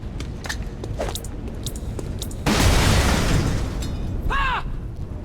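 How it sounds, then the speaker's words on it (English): A turncoat grenade detonates in the XCOM: Chimera Squad video game, a loud booming blast that rises suddenly partway through, over clicks and a brief electronic warble from the game. "I'll get a turncoat grenade out first on these guys, so they shoot each other."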